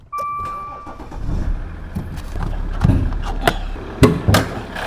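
A Maserati Ghibli six-cylinder diesel engine cranks and catches, then settles into a steady low idle with a few thumps and clicks nearby.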